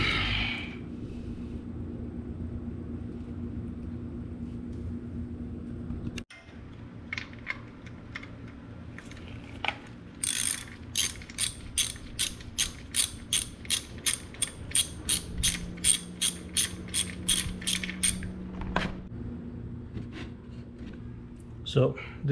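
A socket ratchet on a 12mm socket works loose the stuck oil filter nuts on a 1983-84 Honda CB550 Nighthawk motorcycle. A long, steady run of rapid metallic clicks is heard up close, after a stretch of quieter handling noise.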